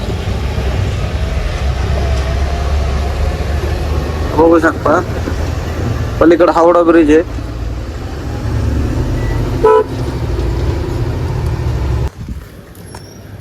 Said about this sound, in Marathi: पण एवढं ट्रॅफिक आहे कलकत्त्यामध्ये